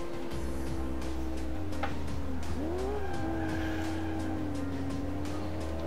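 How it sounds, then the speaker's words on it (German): A car driven in the video game Alarm für Cobra 11 Highway Nights, with a steady engine drone held loud throughout and a brief tire squeal and skid partway through. "Fahren wir das Auto doch mal aus."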